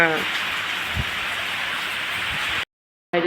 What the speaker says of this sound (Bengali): দেখো বৃষ্টি পড়ছে তো